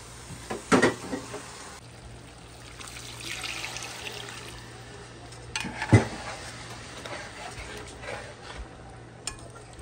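Catfish curry with mango, okra, peppers and tomato is stirred in a pot, giving soft liquid sloshing and a couple of sharp clinks of spoon against metal over a steady background hum.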